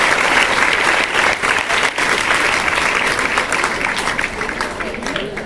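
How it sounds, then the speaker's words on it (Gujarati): Audience at a district education office event in Gujarat applauds its whole organizing team, a dense, steady clapping from a large indoor crowd lasting throughout at even loudness. "પહેલા એક સરસ મજાની તાળીઓ જિલ્લા શિક્ષણ અધિકારી કચેરીની આખી ટીમ માટે થઈ જાય."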